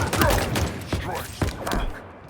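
Shots fire in a video game combat scene, several sharp thumping bursts spread across a couple of seconds over a busy, noisy mix.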